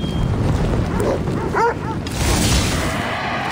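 A dog barking and attacking in Assassin's Creed Odyssey: a few short barks and whimpering yelps midway, close and moderately loud over rumbling game ambience and effects.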